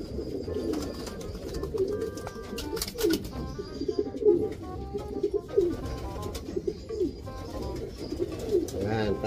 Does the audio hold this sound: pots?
no